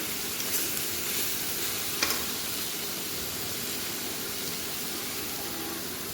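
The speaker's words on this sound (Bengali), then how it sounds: "পিঁয়াজখিনি আকৌ অকণমান সময় লৰাই ল'ম ধুনীয়াকৈ ভাজি হৈ গৈছে" Onions fry in a pan, giving a soft, steady sizzle with a few faint scraping stirs near the start, low and continuous with no voices.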